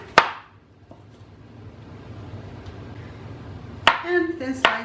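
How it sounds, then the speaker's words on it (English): A knife slices a large onion thinly on a cutting board in a home kitchen, giving a few sharp, isolated cuts with quiet gaps between them and a brief voice near the end. "I am now just doing some thin slicing of my onion"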